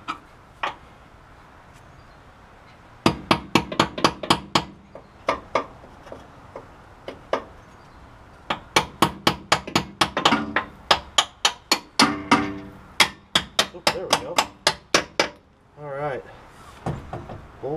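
A hammer taps a bolt through the front end of a 1972 Oldsmobile Cutlass during restoration, sharp metallic strikes in quick bursts of rapid blows separated by pauses, close and loud.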